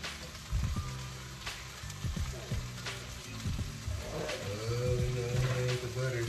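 Butter sizzling and frying in a hot pan while making mini chicken pot pies, a steady crackling hiss with sharp spatters throughout, close and fairly loud, with voices talking over it.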